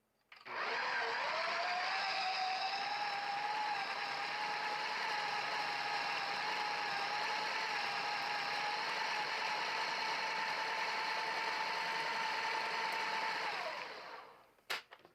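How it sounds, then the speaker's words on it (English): An electric mixer churns brownie ball dough in a steady, loud mechanical whir with a rattling drone that holds for about thirteen seconds before winding down and stopping. "And then we're going to mix this up again"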